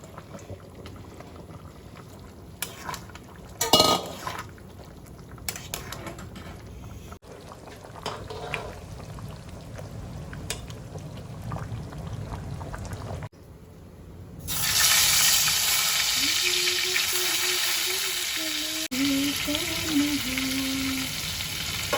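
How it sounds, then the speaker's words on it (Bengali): Fried chicken pieces go into a pan of chili chicken gravy one by one, with quiet clatter and stirring giving way to a loud, steady sizzle and bubbling that fills the latter half. "ভাজা চিকেনগুলো সব দিয়ে দেবো এক এক করে।"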